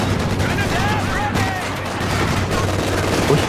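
Machine gun fire rattles through a Company of Heroes 2 battle, steady dense bursts of gunfire over constant battlefield rumble for the whole stretch, with a voice talking faintly underneath.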